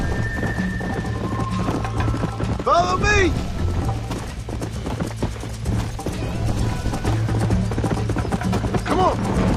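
Horse hooves clip-clop steadily in the western video game Red Dead Redemption, a continuous trotting rhythm under background music, with a short whinny partway through and someone speaking briefly.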